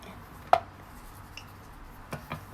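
A knife chops through food on a cutting board while preparing chicken-filled curry puffs: one sharp cut, then two more close together near the end, each a short crisp knock over a quiet kitchen background.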